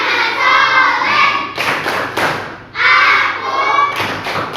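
A school class performs the Tepuk Anak Soleh clapping chant, rhythmic bursts of hand claps and thumps in groups, with children's voices chanting between the claps.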